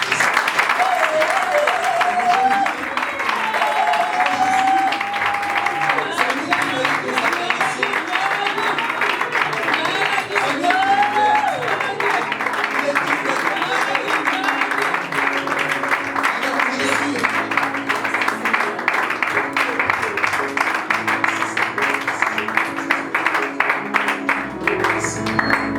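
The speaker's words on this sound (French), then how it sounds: "Est-ce que tu peux maintenant acclamer pour Jésus?" A church congregation cheers and applauds for Jesus, a dense, sustained wash of clapping and shouting that fills the whole stretch, with voices rising through the crowd noise.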